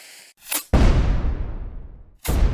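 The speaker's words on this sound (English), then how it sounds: "made a rocket projectile that explodes when it hits a surface" An RPG rocket in a homemade shooter game launching with a whoosh and then exploding on impact into a loud, booming blast with a long rumbling decay, followed by another sharp burst at the end.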